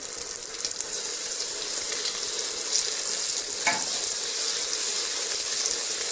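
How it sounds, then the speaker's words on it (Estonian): Onion sizzles and crackles steadily in a hot pan with salt pork fat, a loud continuous frying hiss throughout, with a brief clink partway through. "Nii, nüüd läheb sibul peale."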